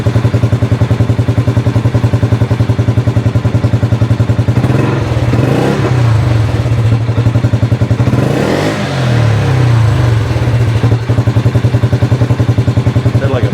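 Single-cylinder engine of a Polaris Sportsman Ace 330 ATV idling steadily after a tuner install, a loud, close, even pulsing with two brief rises in revs midway.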